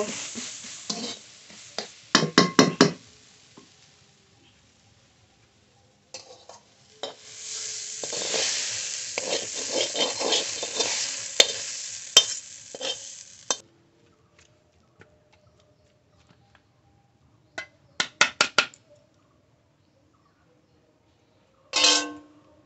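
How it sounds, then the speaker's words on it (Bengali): Leafy greens are stirred and fried in a pan, with bursts of scraping stirs and a sustained sizzle in the middle, then a few sharp scrapes near the end and long quiet gaps between them. "শাক ভালো করে সিদ্ধ হয়ে গেলে এইভাবে নেড়ে নেড়ে নামিয়ে নেব।"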